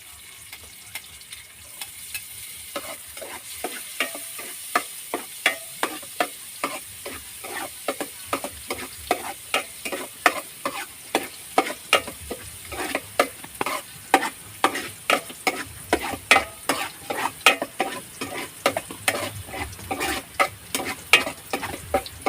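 Garlic sautéing in a pan with a steady crackling sizzle and rapid repeated spatula taps and scrapes, close and continuous, without speech.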